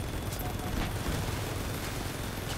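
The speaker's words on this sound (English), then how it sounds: "we're gonna run away while shooting him" Mounted vehicle weapons firing in Crossout, vehicular combat with a continuous loud barrage of rapid shots and rumbling blasts, dense and unbroken throughout.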